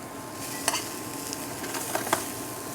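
Asparagus and diced sun-dried tomatoes sautéing in a pan, a steady soft sizzle with a few brief scrapes and clinks of stirring, close by, no talk.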